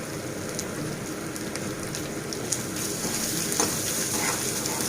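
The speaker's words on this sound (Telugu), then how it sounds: "అల్లం వెల్లుల్లి పేస్ట్ వేసుకొని పచ్చివాసన పోయేంత వరకు వేయించుకుందాం" Ginger garlic paste fries in hot oil in a pan, producing a loud, steady, dense sizzle with occasional crackles and pops that continues throughout.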